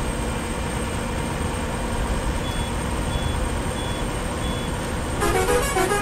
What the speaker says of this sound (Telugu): చూడండి ట్రాఫిక్ వెహికల్స్ కూడా అంత స్పీడే పరిగెడుతున్నాయో